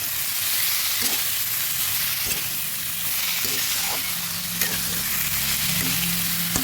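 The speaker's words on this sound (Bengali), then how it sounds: "আমি কাজের সুবিধার জন্য আমি কুকারে করেছি ভালোভাবে নেড়ে দিচ্ছি" Prawns and ash gourd sizzle in a pressure cooker while being stirred, a dense steady frying hiss with occasional knocks of the spoon against the metal pot.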